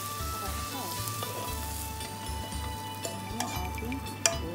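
Wild garlic frying with mushrooms and butter in a pan, a steady close sizzle with light stirring and occasional ticks.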